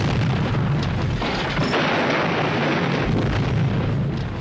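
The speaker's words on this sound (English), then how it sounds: "So we liked explosions." A dense, sustained roar and rumble in a film explosion effect from the making of Thunderbirds, loud and continuous without distinct separate blasts, with no talking over it.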